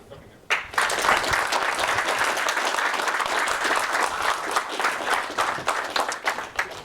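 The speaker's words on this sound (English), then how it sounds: "I would like to give you a big hand of applause for coming here" Sustained audience applause fills a room after a seminar talk, a dense, steady clatter of many hands starting abruptly and continuing at even loudness before tapering slightly.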